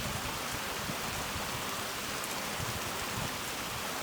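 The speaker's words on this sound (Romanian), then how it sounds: "Uitați-vă ce ploaie! Tropicală!" Heavy tropical rain pours down continuously in Sri Lanka, a dense, loud, even hiss of drops with no voices over it.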